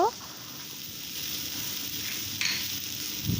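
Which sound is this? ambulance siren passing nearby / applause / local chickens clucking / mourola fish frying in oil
mourola fish frying in oil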